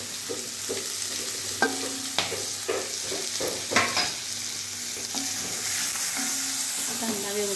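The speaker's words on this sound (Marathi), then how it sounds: "कांदा व्यवस्थित लाल होईपर्यंत भाजून घ्यायचा आहे।" Finely chopped onion fries with asafoetida in a pan, a close, steady sizzle broken by repeated sharp scrapes and taps of a spatula stirring against the metal.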